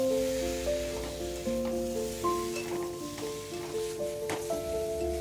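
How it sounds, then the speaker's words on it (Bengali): Egg, potato and spice masala with turmeric and chilli powder sautéing in a pan, a close continuous sizzle with stirring scrapes and a faint tonal hum in the background. "ডিম আলু মশলা একসাথে কষিয়ে নেব"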